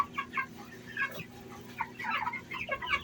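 Master Grey chickens feeding on grain, making soft, irregular clucks and short chirpy calls at close range over a low background hum.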